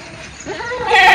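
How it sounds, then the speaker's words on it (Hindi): A male goat gives one close, loud bleat that sounds like a female goat and rises in pitch toward its end. "ये वही बकरा जो बकरियों की तरह आवाज़ निकालता है"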